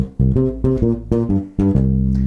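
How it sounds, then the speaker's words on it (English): A bass guitar plays a bluesy riff of repeated low plucked notes in a shuffling rhythm, clear and close, with no one speaking. "the riff we're going to use over the top of it is a real classic blues riff"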